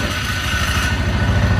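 A 2012 Polaris Sportsman 400 HO ATV engine idles close by, a loud, steady, low mechanical putter with a rapid even pulse and no talk over it.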